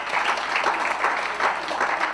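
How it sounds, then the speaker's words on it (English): An audience applauds for Michael Hardy at a gathering, with a dense, steady round of clapping from a room full of people that holds at an even level from start to finish. "So let's give Michael Hardy a round of applause."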